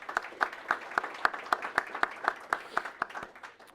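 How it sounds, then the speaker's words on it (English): Soft, rhythmic clapping from a modest crowd at a Louisville affordable-housing dedication for Monarch Station, with steady evenly spaced claps over a quieter wash of applause, somewhat distant. "Let's give a round of applause to our elected officials, housing agencies, and their administrations"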